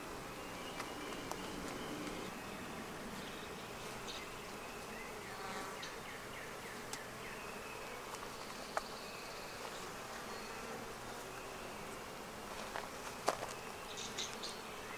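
Agitated honey bees drone around an opened Flow Hive, a continuous thick buzzing with insects flying close by in brief louder passes, no voices.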